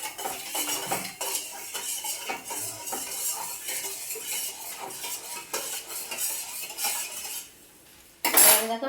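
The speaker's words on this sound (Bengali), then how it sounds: "দিয়ে জলটা গুলিয়ে নেবো।" A metal spoon stirs sugar into water in a bowl while making dahi vada, giving steady rapid clinking and scraping against the vessel for about eight seconds, then a short pause and a brighter final clatter.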